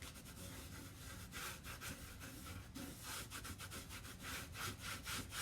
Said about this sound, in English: And I'm also going to wax this